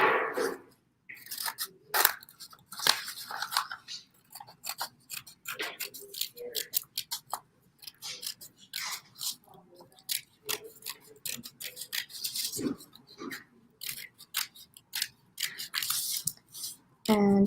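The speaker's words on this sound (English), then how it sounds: "I'm going to jump over to my bigger scissors because they're easier to hold and just do the outside part" Sharp snips of a large pair of scissors cutting tissue paper for papel picado, close and crisp, in an irregular run of single cuts and short bursts with brief pauses between them.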